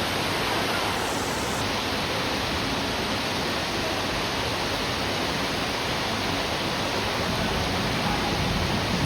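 A heavy downpour over a waterlogged neighbourhood with flooding, its dense, even roar of rain holding steady and loud throughout without pause or voices.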